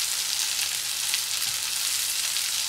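Swedish meatballs fry in a non-stick pan with a dense, steady sizzle and spitting crackle, close up and uninterrupted.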